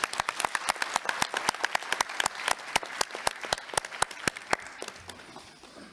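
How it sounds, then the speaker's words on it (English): Delegates at an ICAO Economic Commission meeting applaud, with crisp individual claps in a fairly steady rhythm that gradually thin out and fade. "I think we all deserve a round of applause."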